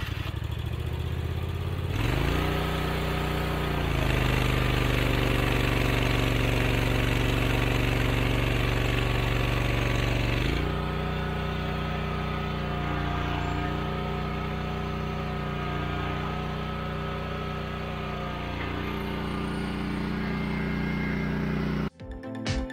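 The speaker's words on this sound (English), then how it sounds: "I guess I'll start it back up and maybe run the track back and forth a little bit without the auger going" Small trencher engine starting up in a garage and running steadily at a mid-pitched idle with a brief rise in revs, loud and close throughout, then cut off sharply near the end.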